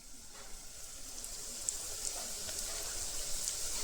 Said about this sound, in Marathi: कांदा या ठिकाणी फराय होतोय